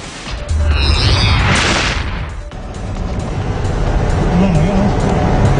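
A loud boom erupts near a military convoy travelling a highway in Mamasapano, Maguindanao, followed by a sustained rumbling roar and vehicle noise from close by, with no talk over it.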